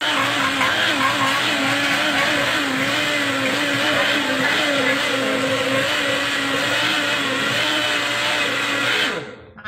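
A blender motor whirs loudly and steadily for several seconds with a fluctuating pitch, blending mango, banana, apple and milk, then cuts off abruptly at the end.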